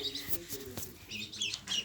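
Birds chirping and calling in quick, sharp bursts, fairly close, with rustling and a few faint low sounds underneath.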